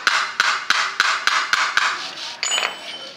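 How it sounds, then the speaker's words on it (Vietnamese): A hammer lightly taps the valve parts on the head of a D15 diesel engine, seven sharp metallic knocks at an even rhythm, close and loud, followed by a brief scrape. "ta lấy cái búa ta đập nhẹ cán xuống đầu"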